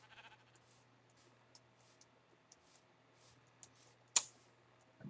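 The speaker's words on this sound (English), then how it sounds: "I just punched you, sheep." A sheep in the Minecraft video game bleats after being punched, a short loud burst standing out near the end over faint game sounds, light clicking and a low steady hum.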